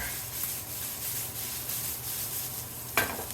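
Meat browns in a pan for biscuits and gravy, giving a steady, soft sizzle close by with light stirring scrapes and one sharper clank near the end; no talking.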